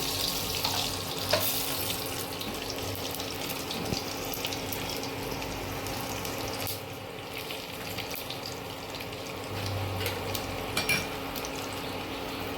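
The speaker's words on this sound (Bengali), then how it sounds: "আমি এবার শুকনো লঙ্কা ফোড়ন দেবো আর দেবো 5 ফোড়ন।" Dried red chillies and Bengali five-spice temper in hot oil for a vegetable dal, producing a continuous close sizzling hiss with occasional soft clinks of a pan, with no speech.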